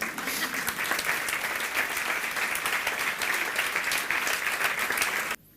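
Steady audience applause fills a lecture hall on emotional freedom, dense and sustained at an even level before cutting off abruptly near the end.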